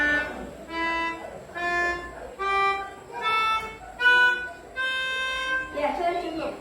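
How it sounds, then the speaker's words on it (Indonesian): A child plays a pianika, a mouthpiece-blown keyboard harmonica, in a classroom, working through a scale with a series of separate held reed notes, each clear and bright, one after another. "pianika dengan tangga nada."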